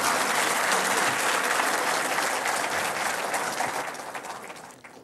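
A large audience at a formal government ceremony breaks into loud, sustained clapping that holds steady for several seconds and then begins to taper off at the end.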